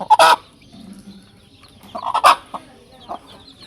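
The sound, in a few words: hen and chicks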